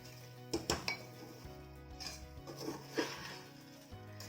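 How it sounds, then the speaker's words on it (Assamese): Liquid is stirred slowly into pulao rice in a pot, with a spoon clinking and scraping against the metal several times in loose succession, close and fairly quiet over a low steady hum. "এই ৰসখিনি এতিয়া মই ইয়াতে লাহে লাহে লৰাই দিম।"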